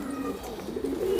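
Golden pigeon cooing close by, a low soft continuous coo with a slight rise near the end, no voices over it.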